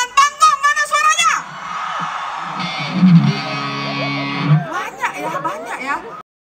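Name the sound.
concert crowd shouting from right side of stage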